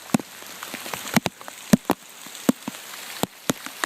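Rain falling outdoors near a puddle, heard as scattered close drops and sharp splats spread irregularly over a soft, steady patter, with no talking.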